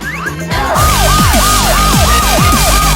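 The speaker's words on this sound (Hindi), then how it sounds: "वह शोर क्या है? सायरन, क्या चल रहा है?" A loud wailing siren sweeps up and down repeatedly, close and continuous, over a low engine rumble.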